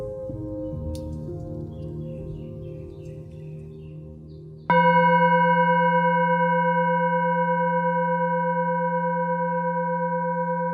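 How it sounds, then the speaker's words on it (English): A soft, clear bell struck once to mark the end of a guided meditation. It rings out over quiet background tones and then hums on with a long, slowly fading sustain. "stay there until you hear a soft bell sound, which will be your sign to open your eyes."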